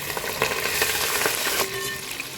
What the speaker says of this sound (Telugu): ఉల్లిపాయలు కొంచెం ఫ్రై అయినాయండి